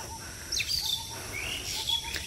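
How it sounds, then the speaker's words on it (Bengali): A bird calls outdoors in a village garden setting, several short rising whistled notes standing clearly above steady background hiss. "পাখি কি সুন্দর ডাকে।"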